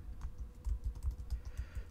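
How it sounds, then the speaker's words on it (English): Rapid, quiet clicking of keys on a computer keyboard as a file name is typed in Windows 11, a brisk, steady run of soft taps close by with no voices. "once you type the file name, you can type any file name"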